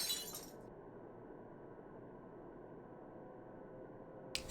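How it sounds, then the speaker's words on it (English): Wine glass shattering in the video game The Letter: a crisp, bright breaking crash right at the start, then a long steady low hum alone, with a faint clink near the end. "I grow still at the sound of shattering glass."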